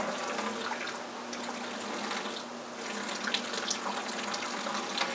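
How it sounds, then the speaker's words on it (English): Tap water running to flush salt out of a MINI*MAX water softener being regenerated, a steady moderate stream splashing and gurgling with a constant low hum beneath, close by and uninterrupted. "I don't want to turn the water on full tilt"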